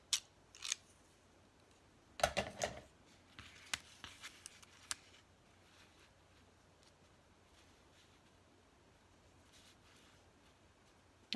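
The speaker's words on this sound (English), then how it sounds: "I cut this paper with special scissors" Special craft scissors cutting paper for a vintage carnival junk journal, a few sharp snips and crisp crunches close by, clustered in short bursts between quiet pauses, faint overall with no voice.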